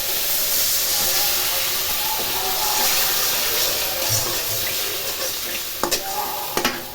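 Water goes into a pan of cooking vegetables and sets off a steady loud hiss and sizzle of steam, with a few sharp clinks near the end.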